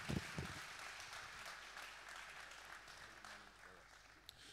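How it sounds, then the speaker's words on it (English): Congregation clapping during a church service, a fairly faint, steady patter of many hands with a few sharper claps and some voices mixed in underneath. "Come on, let's clap to that."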